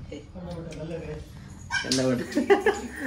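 A dog whimpers and yips, a few short rising cries close by, heard under ongoing talk and background noise.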